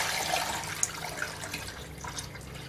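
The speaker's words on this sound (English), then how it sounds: "now I'm pouring off the clear ghee into another pan" Clear ghee being poured from one pan into another, a soft, steady liquid trickle with faint splashy flickers, close and quiet, with no talking.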